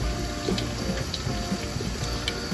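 A small splash of water is poured into a meat seasoning mix of barbecue sauce, tomato paste, paprika, garlic powder and pepper, heard as a steady, close, hissing pour with faint ticks and no talking.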